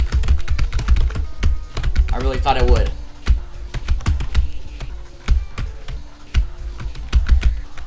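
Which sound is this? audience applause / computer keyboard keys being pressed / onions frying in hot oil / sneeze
computer keyboard keys being pressed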